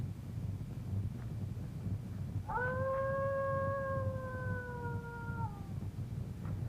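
Dogs howling on a full-moon night, one long sustained howl with clear wavering tones rising out of a quiet windy background partway through, fairly distant.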